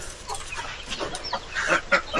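Chickens on a small farm make short, scattered clucks that grow a little louder toward the end, heard close with no talking.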